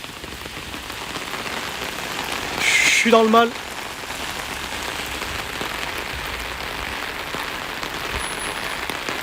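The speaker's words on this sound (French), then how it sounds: "C'est une fausse pluie dans un studio." Artificial rain pours in a studio as a constant loud hiss of water spattering on surfaces. A voice speaks briefly over it partway through.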